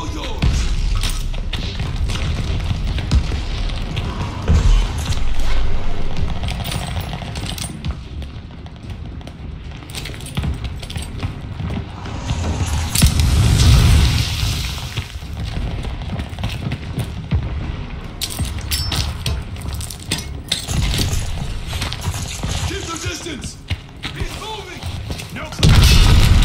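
Cannon fire in the Call of Duty: Vanguard Numa Numa Trail mission, with heavy booming thuds and rumbling impacts throughout amid battle ambience and some in-game voices.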